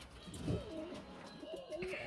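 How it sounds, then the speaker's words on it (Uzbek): Pigeons coo softly and repeatedly in a yard, their low throaty warbles rising and falling at close to moderate distance over faint background noise. "Mana qimmatbaho kaptarlari, xotini ham chiqyapti."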